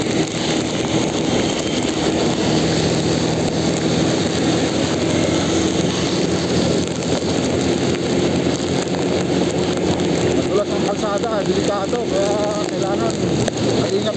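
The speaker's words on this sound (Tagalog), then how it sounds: "malakas ang ulan" Heavy rain drums steadily on a moving vehicle during a wet-weather food delivery ride, a dense continuous wash with a low engine hum beneath and faint traffic sounds.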